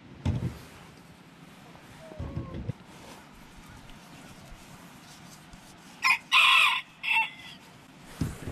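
A rooster on a goat farm gives a short, hoarse, strained crow near the end, over steady outdoor background noise with a few thumps.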